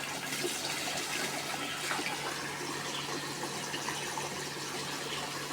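Tap water pours into a bathtub as a steady, continuous rushing and splashing, close and fairly loud, alone without any voices.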